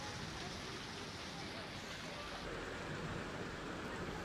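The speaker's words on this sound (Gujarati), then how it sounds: "ધોધમાર વરસાદથી જળબંબાકારની સ્થિતિ છે" Heavy rain pouring down in Dwarka, Gujarat, a dense, steady hiss of falling water filling the scene evenly and fairly faintly, with no clear voices.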